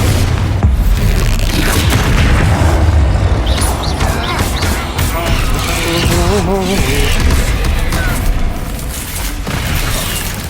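Spell explosions from Bombarda and Confringo in the PC game Hogwarts Legacy go off as repeated loud booms and crashing bursts, layered over busy game effects with barely a pause.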